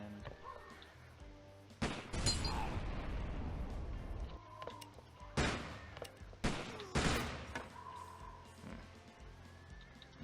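Gunshots in a video game, a few sharp loud reports spaced apart with bursts around two, five and seven seconds, quieter game ambience between them.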